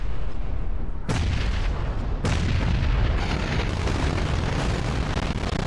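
Grenade blasts in the PUBG video game: loud booming explosions strike one after another, with a big burst near one second and another after two seconds, and the rumble keeps rolling through the whole stretch.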